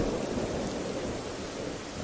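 Heavy rain pours steadily with a low rumble of thunder underneath, a dense, loud, continuous wash that cuts off abruptly at the end, with no voices.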